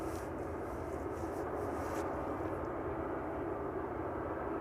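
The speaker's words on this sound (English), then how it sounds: "the last aircraft that we'll probably see on the stream this evening is the West Atlantic" A West Atlantic Boeing 737 at East Midlands Airport gives off a steady, distant jet engine roar, a constant broadband rumble with no voices.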